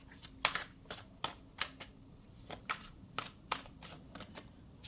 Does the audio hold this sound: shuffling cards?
yes